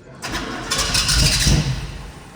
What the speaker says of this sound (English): turn this car on. I want you to hear the small block 383.